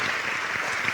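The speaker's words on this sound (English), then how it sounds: "that's how you get applause, Bob." An audience at a Shroud of Turin conference applauds, a steady, dense patter of many hands clapping at moderate volume in a hall.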